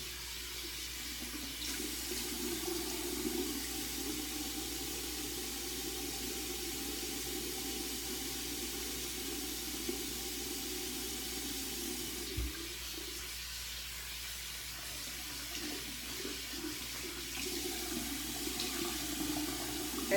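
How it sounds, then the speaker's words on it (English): Tap water runs steadily into a sink during face rinsing, a continuous close hiss and splash that stays even throughout. "I'm talking with the water on"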